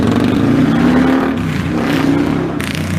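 A motorcycle revs and passes through a public park, its engine note rising and falling close by, loud and continuous for a few seconds.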